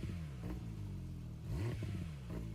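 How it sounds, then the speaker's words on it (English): A Porsche 992 GT3 RS engine in Gran Turismo 7 starts and revs, its tone rising and falling in two or three surges, loud and close. "They literally just used the 992 GT3 RS sound for it."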